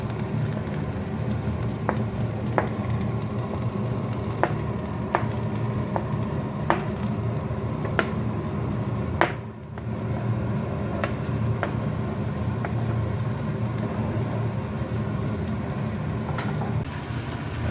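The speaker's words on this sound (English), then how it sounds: "You then put some butter to heat and put the onion" Onion frying in butter in a pan gives a steady, close sizzle that runs the whole time, with regular light taps from stirring and a short dip near the middle.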